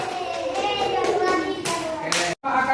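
Schoolchildren in a classroom clapping for a student group, a lively mix of hand claps and children's voices and chatter, with a brief drop to silence near the end.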